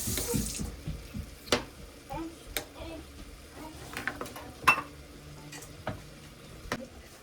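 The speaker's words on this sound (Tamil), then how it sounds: "ஸோ தண்ணி மிக்ஸ் பண்ணிக்கலாம்." Water poured and stirred into a thick dal curry in a home kitchen, a soft wet swirl broken by sharp clinks and knocks of utensils against the pot, with faint background voices.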